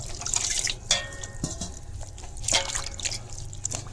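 Water sprinkled from a little height onto suji and atta biscuit dough made with palm jaggery lands in a few light, separate drips and patters against a soft background hiss.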